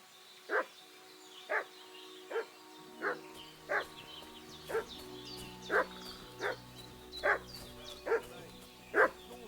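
A dog in Kingdom Come Deliverance 2 barks repeatedly, about a dozen evenly spaced woofs at moderate distance over a quiet background.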